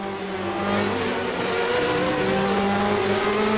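Race cars lapping the Sugo Sports circuit in a racing video game, a steady loud blend of several engines droning and revving with layered harmonic whines, continuous throughout with no talk.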